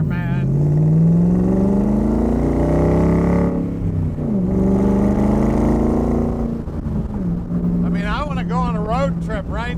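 A 1965 Shelby Cobra Factory Five replica's engine revs loud and close, its pitch climbing and dipping through several long pulls, and someone talks over the end.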